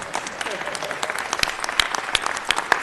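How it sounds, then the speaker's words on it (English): A crowd applauding at a city council meeting, steady clapping with a few sharp louder claps standing out, sustained throughout. "So a big round of applause for him."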